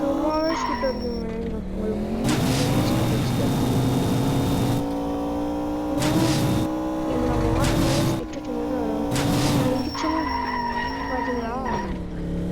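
A car with nitro boost in the Indian Theft Auto video game drives fast, its engine droning continuously while tires repeatedly screech and skid in bursts.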